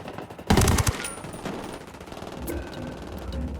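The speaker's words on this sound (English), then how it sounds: "I'm opening fire." Automatic gunfire in the video game Tom Clancy's Ghost Recon Wildlands, a loud burst followed by a dense rattle of shots and noisy battle sound with no talking.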